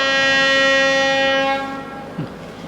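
A train horn blares loud and steady with rich sustained tones, then fades away after about a second and a half, leaving faint low rumble.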